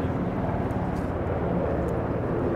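Helicopter flying low over downtown Halifax, a steady loud broadband engine and rotor roar filling the whole stretch with no pauses, heard from the street below.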